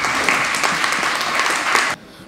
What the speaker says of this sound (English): Give him a clap, man.